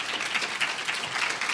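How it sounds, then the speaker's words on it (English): Conference audience applauding, a steady dense patter of many hands clapping together, moderately loud and continuous throughout with no voices over it. "give yourself a round of applause for that"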